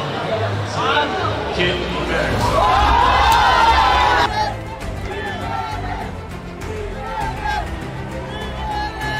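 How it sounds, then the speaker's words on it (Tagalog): A crowd at a Filipino reaction or selection event shouts and cheers, loud and sustained at first, then settling into a steadier hubbub of voices with scattered yells. "Nagsigawan tao no?"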